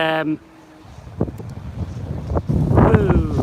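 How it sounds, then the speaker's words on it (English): Wind gusts batter a microphone on a railway station platform in buffeting, uneven rumbles, with a brief tone at the start and a voice speaking toward the end. "windy."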